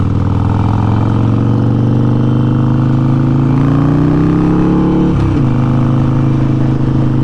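A Harley-Davidson Forty-Eight motorcycle rumbles loud and close while riding. Its low V-twin drone rises steadily as the rider throttles up, then drops abruptly as it shifts or eases off near the end.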